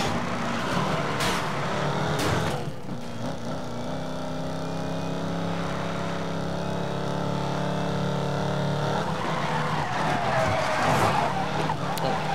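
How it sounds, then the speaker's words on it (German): Tyres squeal and skid as a car spins its wheels while racing in the Need for Speed Most Wanted game, engine droning steadily underneath with a continuous loud smear of tyre noise. "Was ich auch geil finde, dass die Räder übelst durchradieren und so."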